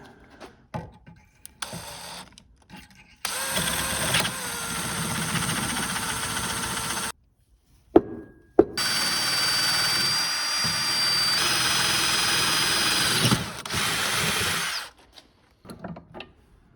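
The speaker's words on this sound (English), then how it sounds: "I'm tapping it while drilling it." A loud power drill grinds steadily into metal, drilling and tapping a hole, in long sustained runs, stopping briefly in the middle, with clanks and short pauses between.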